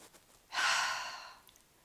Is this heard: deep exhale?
yes